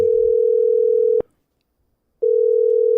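A telephone call ringing out before going to voicemail: a loud steady ringback tone lasts about a second, stops for a second of silence, then sounds again. No voices.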